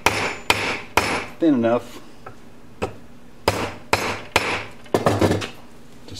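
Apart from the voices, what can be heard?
hammering a piece of lead flat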